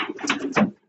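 A domestic pigeon gives a brief, soft coo, close by, lasting under a second, from a loft of racing pigeons.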